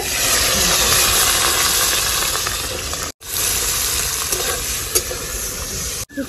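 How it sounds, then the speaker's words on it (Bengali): Capsicum frying in hot oil in a pan, a loud continuous close sizzle and crackle with stirring scrapes, cut off by two brief breaks. "ক্যাপসিকামটা ভেজে নেব।"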